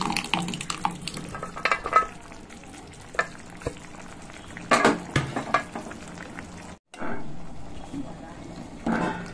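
Mashed toor dal is scooped and scraped into a pot of Rayalaseema-style sambar, giving irregular wet plops and clanks over a steady sizzling simmer, with a voice speaking at times.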